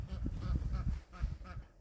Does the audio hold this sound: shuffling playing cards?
no